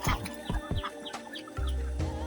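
Ducks penned in an enclosure beside a fish pond and paddy fields give several short, close, raspy calls in quick succession, followed by a steadier low murmur from the flock.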